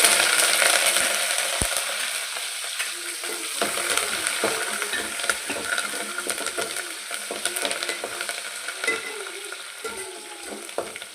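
Cashews, green chili, ginger and curry leaves fry in hot oil for a tempering, a dense steady sizzle with occasional stirring clinks and scrapes, close and continuous.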